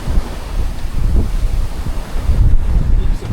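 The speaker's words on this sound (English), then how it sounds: "Bit of a sporty sail. 20 knots of wind." Strong wind of about 20 knots roars steadily across the microphone while waves surge and slosh around a sailing yacht, with loud, continuous low rumbling and no voices.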